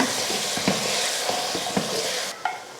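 Cauliflower and tomato with a little salt fry in a pan for veg biryani, giving a constant hissing sizzle with several short stirring knocks and scrapes up close and no voices.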